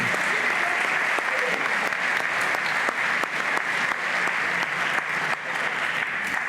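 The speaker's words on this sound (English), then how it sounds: "let's give them another round of applause" Sustained audience applause fills a graduation ceremony for a spring class, a dense, steady wash of many hands clapping with no break, close and loud throughout.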